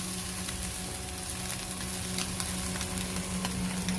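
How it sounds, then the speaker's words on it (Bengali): Fish sizzling and frying in a pan over a fire, a steady close crackle with faint stirring scrapes and an underlying hum, no talk. "এই ভাজা চলছে।"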